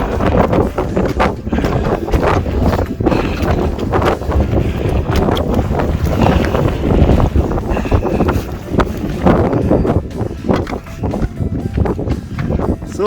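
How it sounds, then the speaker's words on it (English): Wind gusts across the icy summit of Ben Vane in the Arrochar Alps, Argyll, buffeting the microphone with loud, continuous rumbling roar and rustle throughout, with no talk. "It's not too windy. I should hear it, but it gets windy at the edge."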